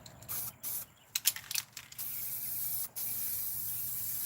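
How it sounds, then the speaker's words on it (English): Rattle-can primer sprayed while recovering a 1974 Ford F-100 seat: short hissing bursts at first, then a steady sustained spray hiss with a brief pause, close and fairly quiet. "This is just spray bomb primer"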